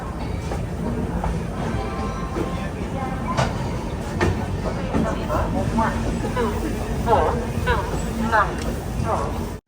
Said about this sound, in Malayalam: ട്രെയിൻ ഇപ്പം മീററ്റ് സിറ്റി ജംഗ്ഷൻ റെയിൽവേ സ്റ്റേഷനിൽ എത്തിയിരിക്കുകയാണ്.